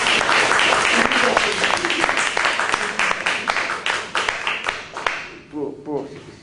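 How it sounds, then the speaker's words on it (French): Audience at a seminar lecture on Derrida and the animal applauding a speaker, dense loud clapping from a room of people that thins into scattered claps and fades, with a voice briefly heard near the end. "nous pouvons applaudir Paulette Kaiser"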